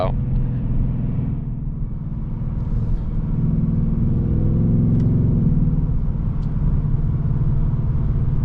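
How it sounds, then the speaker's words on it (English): A 2024 Ford Mustang GT Premium accelerates at half throttle on wet roads, its engine a continuous deep, rising drone heard from inside the cabin, with a person talking over it. "you can give it half throttle just like that and it'll wind through the gears"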